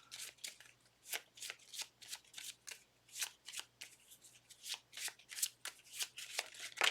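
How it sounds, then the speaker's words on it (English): A deck of cards for the board game Legacy of Yu is shuffled in quick, repeated riffles and bridges, a steady run of crisp papery bursts, close and fairly quiet, with no talk. "So now the water will move as we shuffle up this deck."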